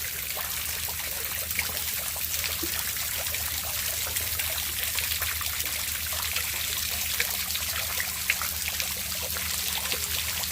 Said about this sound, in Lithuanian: Ir irgi bėga šiltas vandenėlis.